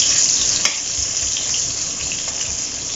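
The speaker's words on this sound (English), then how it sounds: "in the same oil that we've done the potatoes and the pork, I'm going to add the onion and garlic" Onion and garlic frying in oil in a pan already used for potatoes and pork, a steady close crackling sizzle that stays loud and even throughout with occasional soft stirring taps.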